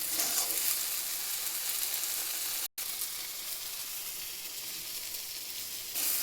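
Fish frying in a pan, bones left in, slowly cooked down into shredded jhuro; a steady, dense sizzle runs throughout with one very brief dropout midway.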